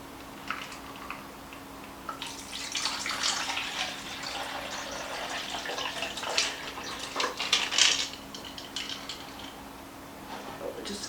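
Ice-cold water pouring steadily into a container of baking soda close by, a continuous splashing trickle that swells slightly near the end.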